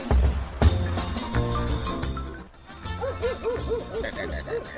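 A dog barks and yips at a house in an Ilocano drama, with a loud thump near the start, then a run of short repeated yelping barks in close succession that sounds close by.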